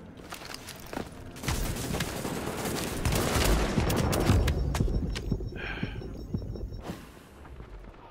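Gunfire in a firefight in the video game The Division, with rogue agents: rapid overlapping shots and bursts crowd together into a dense, loud clatter for several seconds, then thin out.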